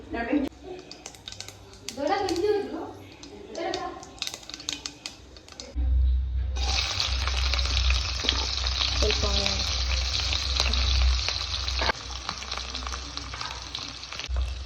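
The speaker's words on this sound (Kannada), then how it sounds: "ಎಣ್ಣೆ ಬಿಸಿ ಆದಮೇಲೆ ಸಾಸಿವೆ ಹಾಕಿಕೊಳ್ಳಿ. ಸಾಸಿವೆ ಎಲ್ಲ ಚಟಪಟ್ ಚಟಪಟ್ ಹೇಳ್ಬೇಕು." Mustard seeds hit hot oil for a coastal-style crab curry and burst into a loud, dense splutter and crackle that holds steady to the end, after an opening stretch of talking over quieter kitchen noise.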